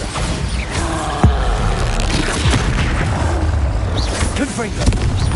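Booming blast of the Bombarda spell in Hogwarts Legacy, a dense explosive thump with sharp impacts amid continuous game combat noise and music.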